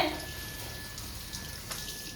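Water running from a tap as someone washes their hands and face, a steady splashing hiss at close range with a few brief louder splashes.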